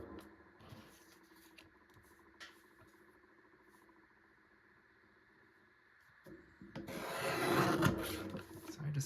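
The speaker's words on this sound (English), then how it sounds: "So I'm actually gonna use my photo trimmer. While I have it, I can just trim this edge here." A photo trimmer slicing along a paper edge, a faint rubbing scrape early on, then a louder rasping cut swelling near the end, heard close in a quiet room.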